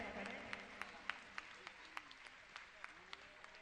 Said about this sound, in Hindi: बहुत सुंदर के तालियों से इनका अभिनंदन करें